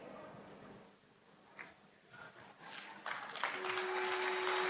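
A crowd at a semiconductor plant foundation-stone ceremony in Greater Noida breaks into applause, starting faint and swelling into sustained, dense clapping by the end, with a thin tonal ring near the close.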